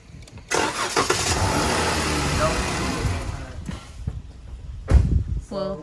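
A Dodge car engine with worn internals and a failing oil pump cranks, starts and revs, running rough at close range for several seconds, settling down before a brief louder burst near the end, with a voice heard briefly.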